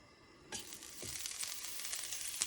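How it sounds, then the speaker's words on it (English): Shrimp dropped into hot oil in a pan sizzle suddenly, a steady loud frying hiss that persists with small pops and crackles. "you get your pan nice and hot, not too smoking hot, but oil. And we'll start dropping our shrimp."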